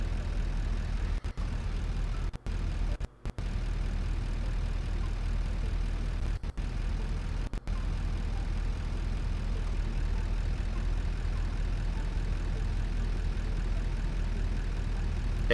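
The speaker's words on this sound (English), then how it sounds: "And there's the tractor there." A tractor's engine in the video game Satisfactory drones with a steady, low, continuous hum, broken by a few brief dropouts.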